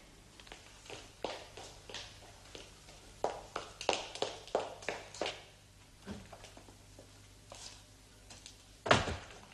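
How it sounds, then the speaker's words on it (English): Door sounds in a haunted stately hall, a series of knocks and thuds rattling in irregular bursts, then a heavier bang near the end, with no talking. "do something about that door, Ellie."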